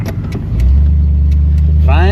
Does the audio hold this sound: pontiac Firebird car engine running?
yes